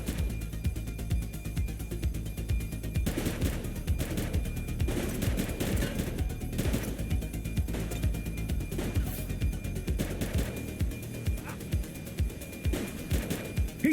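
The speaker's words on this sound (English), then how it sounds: "He's shooting!" Sustained video game gunfire, with dense bursts of automatic shots and single cracks rattling on over a constant loud, noisy backdrop.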